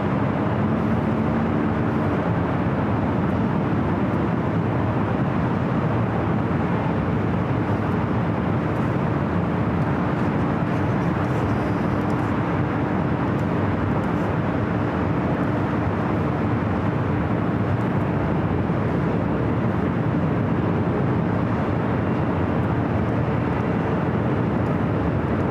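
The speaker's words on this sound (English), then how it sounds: "this is KLM flight 604, the last flight of the day out to Amsterdam" KLM airliner departing LAX for Amsterdam, a long steady engine roar at constant loudness, broad and continuous, with no talk over it.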